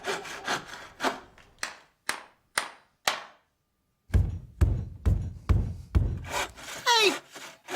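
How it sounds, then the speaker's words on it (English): Repeated hard knocks of a head banging against a wooden bed headboard, a rapid series of sharp thuds in two bursts separated by a brief silence, loud and close. "That was a napper banging off the headboard."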